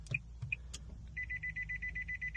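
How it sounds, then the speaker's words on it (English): A Nissan car beeps during key programming: a few short separate beeps, then a fast unbroken run of rapid chirping beeps, close and fairly loud with no voices. "Oh, it beeped at me."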